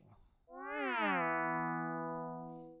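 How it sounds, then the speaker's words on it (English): A cat-like meow synth tone coded in Sonic Pi, a single harmonic-rich electronic note that bends upward then glides down and sustains for about two seconds, clear and alone. "You got a cat synth right there."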